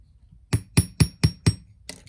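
Five sharp metallic hammer strikes land at a steady quick rhythm on a wire bangle bracelet, then a sixth lighter tap follows after a short pause, close and clear with no talking.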